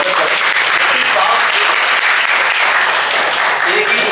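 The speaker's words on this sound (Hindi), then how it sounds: "मैं चाहूँगा जोरदार तालियों से आप उनका स्वागत करें" Loud, dense applause from a gathered crowd welcoming a retiring staff member after 36 years in one department, sustained evenly throughout with faint voices mixed in.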